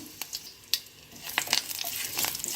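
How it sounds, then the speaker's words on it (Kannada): Mustard seeds tempering in hot melted ghee give sharp, separate pops and crackles at first, then build into a denser, brighter sizzle close by. "ನೋಡಿ ಒಗ್ಗರಣೆ ಆಗ್ತಾ ಇದೆ"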